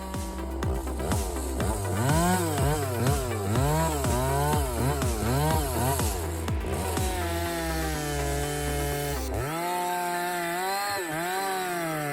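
A big 070 chainsaw cuts through a giant tree, its engine loud and close, revving up and down in repeated surges before settling into a steadier high whine, then dropping lower near the end.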